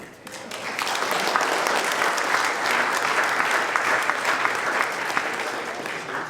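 Sustained applause from an audience at an art show during a rodeo event, a dense patter of many hands clapping that swells in quickly and holds steady, with faint crowd murmur underneath.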